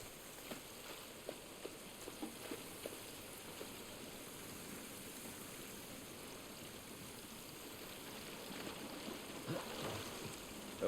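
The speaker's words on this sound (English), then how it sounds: "This rain ain't gonna do us any good." Steady rain pours in the video game The Last of Us, a constant close hiss of falling water with faint scattered patter and no talking.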